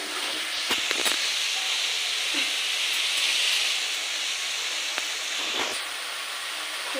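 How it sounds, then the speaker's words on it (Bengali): Ground coriander and cumin sauté in a hot pan, giving a steady close sizzling hiss throughout, with a few brief clicks. "মশলাটা কষিয়ে নিতে হবে।"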